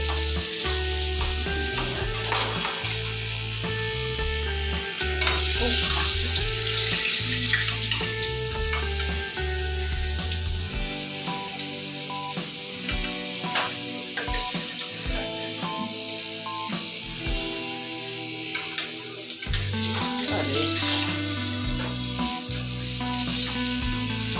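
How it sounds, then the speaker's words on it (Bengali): Fish sizzles steadily in hot oil in a pan while being fried for a Bengali fish curry, with louder crackling bursts and occasional stirring or utensil clatter close by; no one speaks. "আমার মাছটা মোটামুটি ভাজা হয়ে গেছে"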